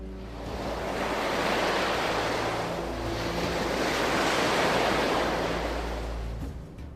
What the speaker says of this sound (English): The waves were frisky.